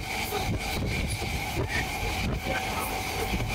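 A local train rolling from Howrah to Amta: a steady rumble with rhythmic clickety-clack of wheels over rail joints and a faint squeal, carrying on evenly from start to end.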